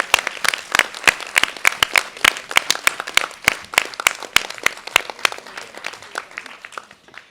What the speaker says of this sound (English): let's save the most enthusiastic applause to our speaker today